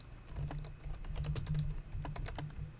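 Rapid keyboard typing during NHL 20 franchise mode text entry, a steady run of close, crisp key clicks over a low constant hum.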